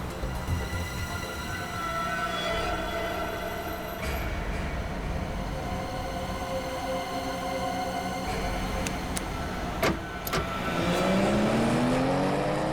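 A car speeds along a road in a steady, loud engine-and-tyre roar heard from inside, swelling briefly as it accelerates near the end, with a few sharp knocks.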